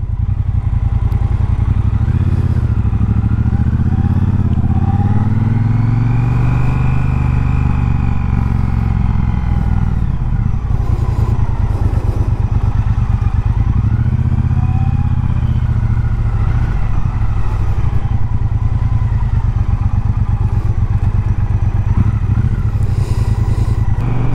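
A 2019 Triumph Bobber Black motorcycle engine revs up and down several times, pitch rising and falling, loud and close over continuous road and wind noise.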